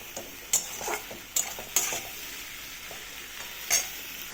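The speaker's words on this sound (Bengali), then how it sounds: "আলুটা ভাজা হয়ে গেলে এবার ওর মধ্যে বেটে রাখা মশলাটা দিয়ে দেবো। দিয়ে নেড়ে চেড়ে" Ground spice paste frying and being stirred with potatoes in a pan: a steady soft sizzle, broken by several sharp scrapes and clacks of a utensil against the pan, near and clear, with no talking.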